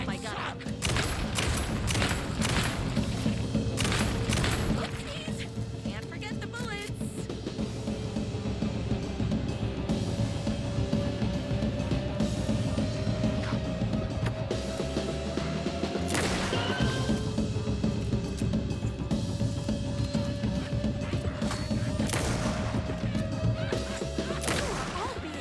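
Sustained rapid gunfire in Alan Wake II, with bursts of shots and crashing impacts layered over game effects, while a voice talks throughout.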